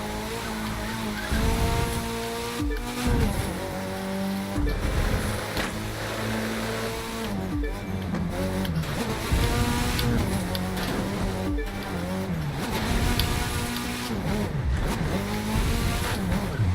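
In The Crew 2 racing game, a Mitsubishi Evo X's engine drones and revs steadily while its tires squeal and skid through corners, loud and continuous throughout.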